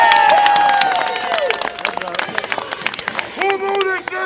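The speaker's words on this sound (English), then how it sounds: "Give yourself a round of applause" A transit workers' union rally crowd, gathered to keep MARTA public, claps and cheers in a brief burst between a shouting voice at the start and at the end.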